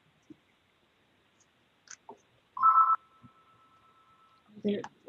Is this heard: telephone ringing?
yes